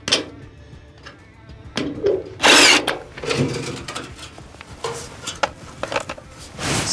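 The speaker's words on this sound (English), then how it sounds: "you want to just attach it with two screws, just one on each side. Just do that now while I have access to it." A power drill drives screws into a gutter downspout elbow during installation, giving short whirring bursts with a louder spike in the middle, mixed with clicks and handling knocks close by.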